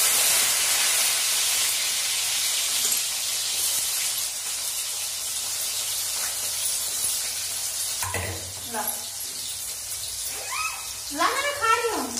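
Potatoes and eggplant frying in hot oil for a home-cooked curry, a steady loud sizzle and hiss that fades a little, with clinks from a spoon and someone talking over the pan near the end.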